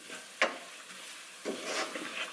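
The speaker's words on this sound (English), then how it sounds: "Okay, stirring it up. Oh, the onion's looking nice and soft too." Onion frying in a pan while being stirred, with a soft steady sizzle broken by a couple of sharp utensil scrapes, close and fairly quiet with no talk.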